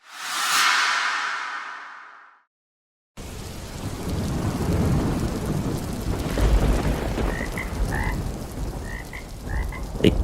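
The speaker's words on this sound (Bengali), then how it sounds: "এক নাগারে মুষলধারে বৃষ্টি হচ্ছে" Heavy rain pours steadily in a cartoon thunderstorm, with deep rumbling thunder and croaking frogs breaking through the downpour, after a brief opening burst and a moment of silence.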